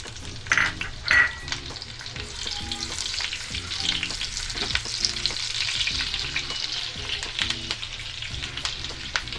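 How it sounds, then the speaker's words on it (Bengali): Half a cup of onions frying in ghee mixed with oil for shahi chicken korma, a continuous close sizzle with crackling and occasional stirring scrapes, with no talk. "ঘিটা তেলের সাথে মিশে গেলে দিয়ে দিব হাফ কাপ পেঁয়াজ"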